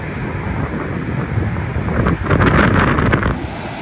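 Huge sea waves crash onto the beach at Salalah, Oman during the monsoon season, a loud continuous surf roar heavily buffeted by wind noise on the microphone, swelling louder toward the end.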